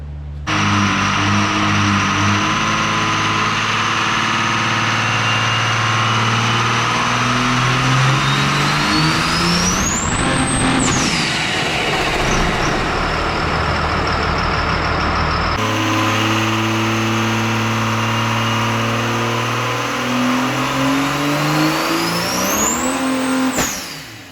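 A nitrous-fed Cummins 6.7 diesel pickup with a P-pump makes a loud, sustained run, the engine droning and rising in pitch through two long pulls with a brief lift between, no talk over it.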